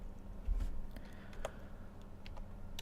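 Command typed on a computer keyboard, a quiet run of light irregular key clicks close by with no talk.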